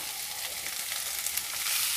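Carrots, cauliflower and beans fry in a pan for a vegetable soup, making a constant, bright, close sizzle with slight stirring texture and no voices.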